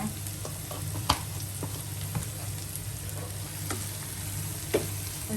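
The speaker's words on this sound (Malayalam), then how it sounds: "എന്നിട്ട് നമുക്ക് നല്ലപോലെ ഇതൊന്ന് ഇളക്കിയെടുക്കാം." Spiced samosa filling stirred in a hot pan with pepper and masala powder, giving a steady sizzle with a low hum and occasional scraping clicks of the spoon, close and moderately quiet.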